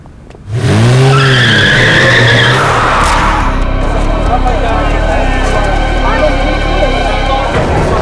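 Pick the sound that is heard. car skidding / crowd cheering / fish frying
car skidding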